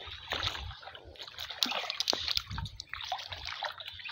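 A man wades through water while washing jute, making soft sloshing and splashing swishes that come and go at moderate distance, with faint outdoor ambience.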